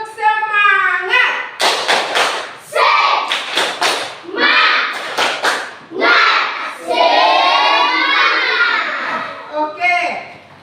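Classroom of children doing a rhythmic group clap in patterned bursts of sharp claps, alternating with children chanting together, loud and close.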